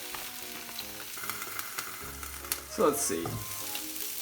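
Eggplant and tofu frying in a pan for vegan miso dengaku, a continuous close sizzle with soft crackles and a brief clatter of turning, while a voice speaks briefly over it.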